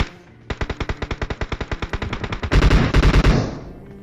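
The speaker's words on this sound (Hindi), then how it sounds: "अब यहाँ पे एक बंदा फायरिंग कर रहा था M7 से" Automatic M7 rifle fire in the battle royale game PUBG: a rapid, evenly spaced string of loud close shots lasting about two seconds, followed by a heavier, denser burst of overlapping blasts that fades out.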